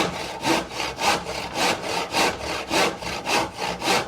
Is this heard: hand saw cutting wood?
yes